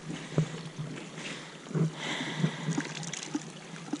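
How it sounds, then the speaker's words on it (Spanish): A horse drinks from the Duje river in the Picos de Europa, with soft intermittent lapping and gulping over the flowing water and outdoor ambience. "Tenemos al caballito bebiendo agua en el río Duje"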